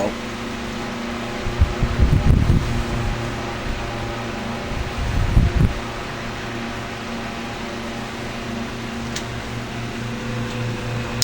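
An old electric fan that keeps running dry despite repeated oiling gives a steady, close mechanical hum and whir throughout, with a louder rumbling patch near the start and another partway through.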